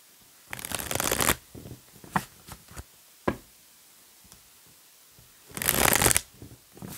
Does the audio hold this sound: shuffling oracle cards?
yes